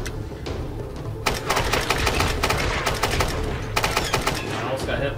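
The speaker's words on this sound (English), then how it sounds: "as you can tell, the assault rifle is not that accurate" Assault rifle fire in Tomb Raider rattles off in several rapid automatic bursts with sharp, close, loud cracks over a continuous low rumble of game noise.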